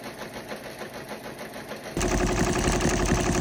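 A computerized embroidery machine stitches a design onto a blue dress, starting partway through as a louder, fast, steady mechanical whir and rattle that continues to the end, close by with no talking.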